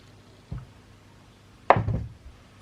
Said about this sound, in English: we're just going to gently chop off shea butter here